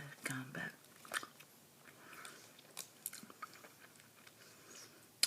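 Turkish gum is chewed close to the ear with soft, wet smacks and small crunches in an irregular rhythm, starting amid quiet whispered speech.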